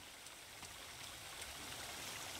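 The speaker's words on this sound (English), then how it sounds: "Back at the waterfall." A waterfall in The Forest video game gives a steady, faint broadband rush of falling water, continuous and even with no voices.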